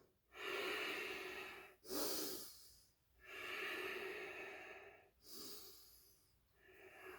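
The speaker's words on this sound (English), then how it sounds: "Inhale and exhale." Slow, deep breathing during a qigong exercise, with long drawn-out inhales and exhales alternating close to the microphone, each breath a soft, airy rush lasting a second or two.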